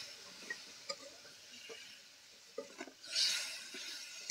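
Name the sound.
stirring eel curry in a pan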